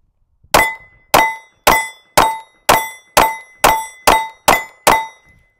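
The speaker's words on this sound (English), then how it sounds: "So I'll just go ahead and shoot 6 rounds on that that right plate" CR920 pistol rounds striking a steel plate: about ten sharp, ringing metallic clangs in a steady, quick rhythm, each decaying briefly before the next, with no talking.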